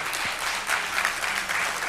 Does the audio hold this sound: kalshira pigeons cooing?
no